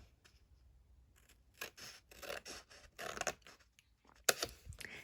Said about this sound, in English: And now we're just going to make a couple little cuts.